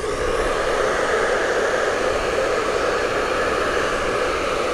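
A hair dryer blows steadily at close range, a constant loud whooshing whir with no pauses or talking.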